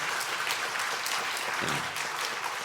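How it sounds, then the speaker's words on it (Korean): A church congregation at a Korean Sunday worship service gives a round of encouraging applause, dense and even, heard from within the room and continuing steadily throughout. "우리 한번 격려의 박수 한번 보내주시기 바랍니다"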